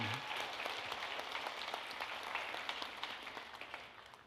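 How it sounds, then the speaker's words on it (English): At a school district State of the District gathering, an audience gives a soft, steady round of applause, a faint, even wash of many hands clapping with no voices. "Can we give him another round of applause, please, for being here?"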